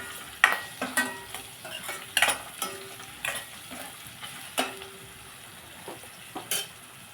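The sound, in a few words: eggs frying with spinach and potato curry being stirred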